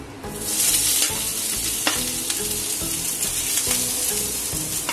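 Grated coconut stirred in ghee in a pan for coconut barfi, with a loud, close, continuous sizzle and repeated scraping strokes of a spoon against the pan.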